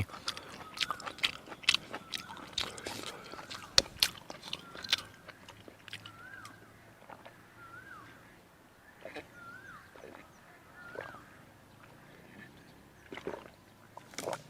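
Someone eats sticky rice with a steamed bamboo shoot dish and fermented fish dip, close soft chewing and crunchy bites in an irregular rhythm over a quiet outdoor background.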